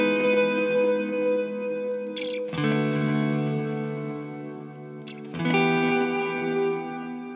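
Electric guitar chords ring out through two stacked delay plugins, swelling into smeared, reverb-like sustained textures with a second chord change blending into the lingering echoes.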